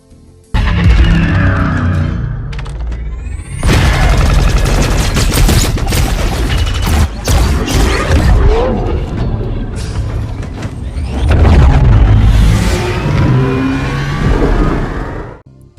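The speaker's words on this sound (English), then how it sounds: "And finally, I think this one is almost definitely a Banshee firing." Banshee aircraft weapon fire from the video game Halo Infinite: sustained, loud bursts of rapid blasts and energy shots over a roaring engine hum, filling the stretch with dense, continuous gunfire.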